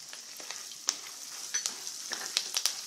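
Crushed garlic and a pinch of turmeric frying in a pan for Kannada-style garlic mandakki, a steady light sizzle broken by sharp crackles and pops, close and fairly quiet.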